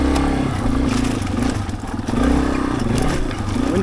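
Skid plate on a Yamaha XT250 dirt bike scraping and clattering over terrain, steady loud grinding under a running single-cylinder engine with no talking.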